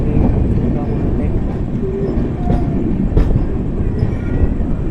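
The Lokmanya Tilak Mumbai express train passes close by with a loud, continuous rumble and rhythmic clatter of wheels on rails.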